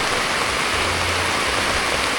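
Steady rain pouring down over a Sunday morning outdoor market, a dense continuous hiss with a low rumble underneath, close and fairly loud, with no voices.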